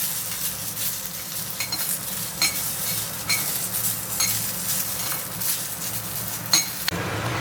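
Oil spattering in a pan while coconut chutney ingredients are prepared, a continuous crackling sizzle with scraping stirs and occasional clinks of metal, close up with no talk.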